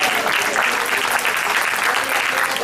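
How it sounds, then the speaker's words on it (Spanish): A church congregation applauds steadily, dense clapping sustained at even loudness from start to finish. "Denle un aplauso a Jesús, amado"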